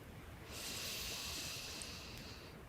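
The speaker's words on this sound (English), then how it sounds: "Breathing in deep, feeling the sensations in our back." A long, steady breath drawn in during a pregnancy yoga routine, soft and airy, sustained for about two seconds against low background hiss with no talking.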